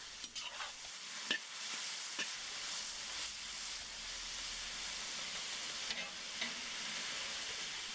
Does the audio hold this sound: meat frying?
yes